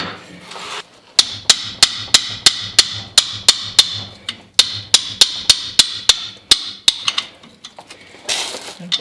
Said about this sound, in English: but a bigger hammer.